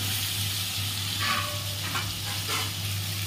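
Young jackfruit fries in a pan with a steady, close, even sizzle and hiss, with no one talking.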